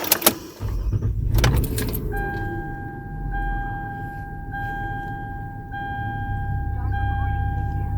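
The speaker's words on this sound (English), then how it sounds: "I'm gonna start the car right now" A car engine cranks and catches, then settles into a steady idle, with a constant high electronic tone sounding over the running engine, close and fairly loud.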